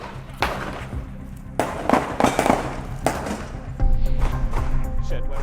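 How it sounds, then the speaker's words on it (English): A series of sharp bangs go off at irregular intervals, loud and fairly close, with a burst of crackling near the end. "just got to be careful here with some gunshots"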